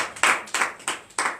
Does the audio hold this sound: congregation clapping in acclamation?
yes